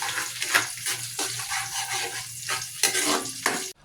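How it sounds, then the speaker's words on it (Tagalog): Garlic sautéing in a pan, a close sizzle broken by repeated stirring scrapes in an uneven rhythm, ending abruptly. "Unahin lang muna natin na ilagay itong bawang, igisa lang natin to hanggang sa lumabas yung aroma."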